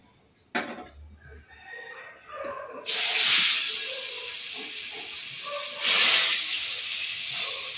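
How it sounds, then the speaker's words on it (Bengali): Fish hits hot oil in a wok with a sudden loud hiss that swells into a steady, bright sizzle, surging again partway through, close and with no voices over it. "তেলটা গরম হয়ে গেছে, এবারে দেবো মাছটা।"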